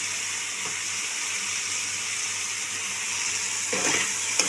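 Fried potatoes added to a sizzling pan of spice paste for a mourala fish curry, a constant close hiss of frying that swells with a brief clatter and scrape near the end.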